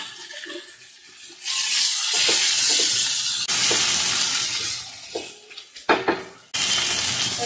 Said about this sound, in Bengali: দু মিনিট রান্না হওয়ার পর শিং মাছগুলো আমি এর মধ্যে দিয়ে দিলাম।